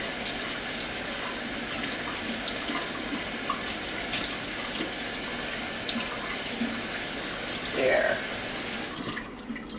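Tap water runs in a steady, rushing stream into a sink as produce is rinsed and moved around for freezing, constant throughout with a brief spoken word near the end.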